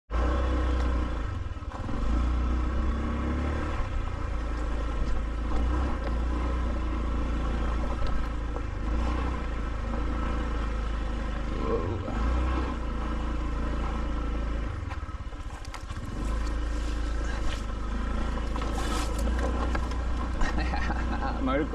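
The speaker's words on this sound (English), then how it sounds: "Motocross style on the scooter." A scooter engine ridden hard, motocross style, over eroded ground in a deforested area near an abandoned airport in Thailand, droning steadily and loudly for the whole stretch with rising and falling revs and some clatter.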